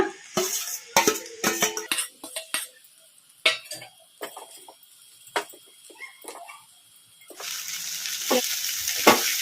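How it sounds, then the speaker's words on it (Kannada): Fried egg being tossed into rice in a pan over high flame for egg fried rice: sharp clinks and scrapes of a spatula against the pan, separated by pauses, then a sustained loud sizzle toward the end. "ಫ್ರೈ ಮಾಡಿ ಇಟ್ಕೊಂಡಿದ್ವಲ್ಲ ಎಗ್ ರೈಸಿಗೆ ಹಾಕಿ ಕಲಸ್ಕೊಂಬಿಡೋಣ"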